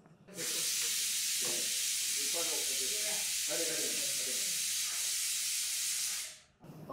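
A pressure cooker cooking rice for pongal releases a loud steady hiss of steam for about six seconds, then stops abruptly, while someone talks quietly under the noise.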